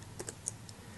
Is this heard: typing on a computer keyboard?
yes